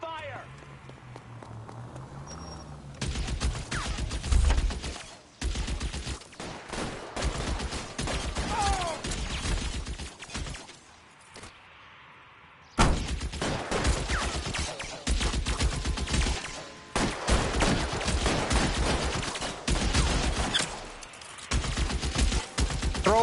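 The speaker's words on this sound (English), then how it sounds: "Open fire!" Shootout gunfire in the L.A. Noire video game, with loud rapid bursts of shots in long stretches, separated by a couple of short quieter gaps, and voices shouting over the action.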